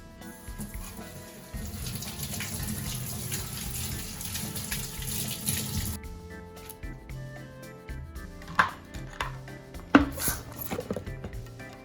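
A handful of fresh basil rinsed under a running kitchen tap for a pasta sauce: a steady close hiss of flowing water, then a louder broken splashing with a few knocks near the end, with no voices.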